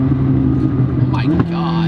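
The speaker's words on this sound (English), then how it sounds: "Listen to that backfire" A McLaren's engine burbles loudly close by and then cracks out a sharp pair of exhaust backfire pops near the end, with voices over the top.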